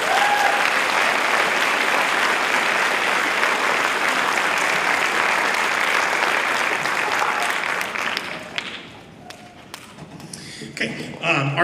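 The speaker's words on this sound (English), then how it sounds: "So they deserve a round of applause for that." An audience applauds marching band students at an evening concert, with steady, dense clapping for about eight seconds before it thins out into a few scattered claps and taps.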